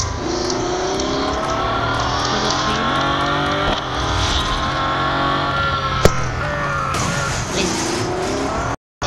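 A racing car in a video game revs hard and steadily with a constant, loud engine whine whose pitch rises and falls through gear changes, a brief squeal or impact near the end, then a short cut to silence.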